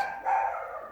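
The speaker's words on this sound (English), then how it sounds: "sorry about my dog barking" A single short dog bark or yip from a pet indoors, moderately loud and close with a brief tonal ring, alone without talk.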